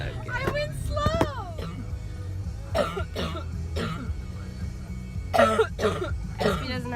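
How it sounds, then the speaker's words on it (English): A young girl without her medicine coughs repeatedly in short, harsh bursts on a windy beach, several separate coughs spread over a few seconds above a constant low wind rumble, with brief voices between them. "so she's been coughing like this"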